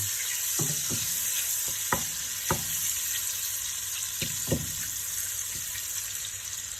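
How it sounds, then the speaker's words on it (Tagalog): Hotdogs frying in a pan: a steady, hissing sizzle of oil runs throughout, with a few soft clicks and taps from the pan and utensils. "Ngayon, umpisa natin prituin muna ang hotdog para mas malasa at malinamnam."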